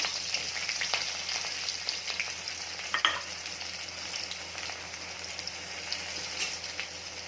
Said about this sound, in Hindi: लहसुन डाल रही हूँ।